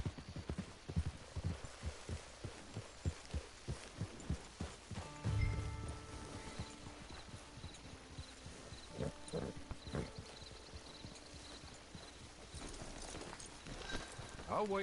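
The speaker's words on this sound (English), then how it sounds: "It's your horse." Horse hooves in Red Dead Redemption 2 clip-clopping in a steady walking rhythm through the first few seconds, then fading under a soft ambient bed, with voices talking over it.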